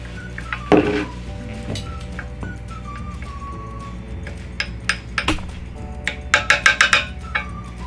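A homemade DIY foundation blended with almond oil and jojoba oil in a small dish, heard as light clinks and scrapes of a utensil, scattered at first and then a quick cluster of sharper taps near the end.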